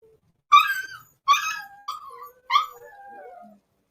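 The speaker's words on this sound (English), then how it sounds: "That noise right there is one puppy." A single puppy in a crate gives four sharp, high-pitched yelping screeches, close and loud, the last one trailing off into a drawn-out whine, with silence between the cries and no talking.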